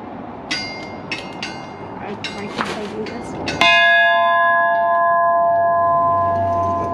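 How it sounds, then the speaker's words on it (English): A cast iron bell is struck once, ringing out loud and clear with a long sustained tone that slowly decays, after a few faint knocks and chatter. "That's the bell, yeah. I want this bell. All right, tell me when to ring it."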